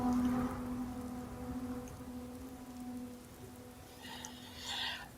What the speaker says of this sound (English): of course it would be raining